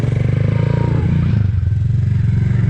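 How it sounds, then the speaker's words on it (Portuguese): A motorcycle engine rumbles loudly up close with a throbbing exhaust note that rises as it is revved, then settles back. "Se você acelerar, ó, se for ficar fazendo zoeira, ele vai fazer barulho."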